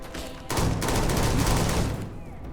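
A rapid burst of pistol fire in the sci-fi video game Starfield, several close, loud shots running together for about a second and a half before fading out.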